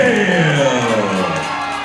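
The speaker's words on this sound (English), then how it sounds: "The crowd here in Altoona, Pennsylvania is not happy." Unhappy crowd at an MMA fight in Altoona, Pennsylvania booing and shouting loudly in a sustained, swelling roar with overlapping jeers that ease off slightly.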